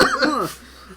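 A voice imitates a cat hacking up a hairball: a short, raspy cough and throat-clearing gag, close and loud, ending abruptly.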